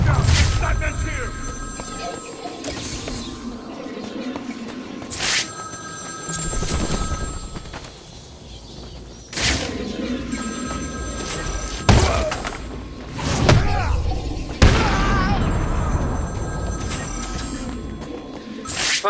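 A telephone rings repeatedly in Batman: Arkham City during the Zsasz side mission, its bell tones mixed with loud thuds, booms and game music while a voice speaks over it.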